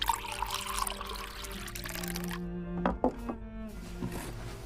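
Water is poured into a glass with a trickling stream that rises in pitch as the glass fills, followed by a soft clink and a short dribble, quiet and close.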